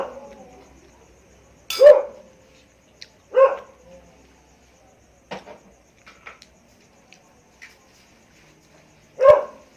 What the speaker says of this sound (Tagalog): ang ingay ng aso namin sa labas.